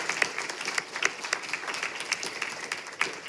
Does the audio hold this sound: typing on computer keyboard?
no